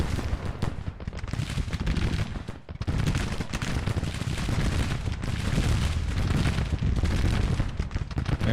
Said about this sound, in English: Gardner's skirmishers firing right into the flank of these enemy troops as they advance